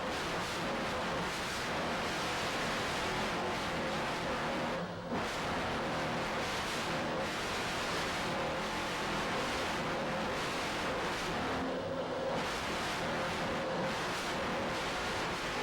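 Brand-new 46-foot Skater racing powerboat running hard at throttle offshore, a steady, loud, broadband engine roar mixed with wind and water rush that holds continuously, with only brief dips.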